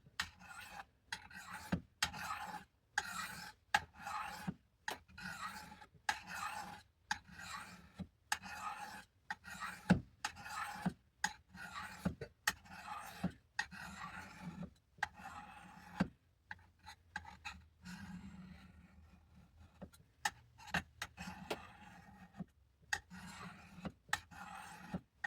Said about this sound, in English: Maybe I'll just sharpen the main edge on this Spyderco as well, since we already got it out.